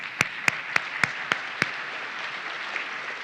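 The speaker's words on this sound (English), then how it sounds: "I'm going to clap for you too." Six sharp, evenly spaced claps ring out close by in a church, then stop, leaving a faint background hiss.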